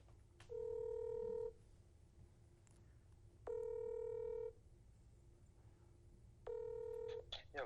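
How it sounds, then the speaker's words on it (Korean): A phone call goes out: three evenly spaced ringback tones, about a second each, sound over quiet room noise, with no voices. "전화 연결을 한번 해보려고 합니다"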